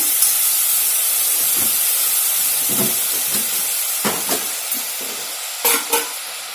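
Spices frying in hot oil for Telangana-style mutton curry, a loud continuous hissing sizzle up close, with intermittent scraping stirs and soft knocks of a spoon against the pan.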